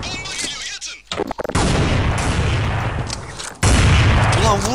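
Pistol fire in Counter-Strike Online: a few sharp shots stand out, then a long loud burst of dense gunfire. Short bits of talk come between the shots.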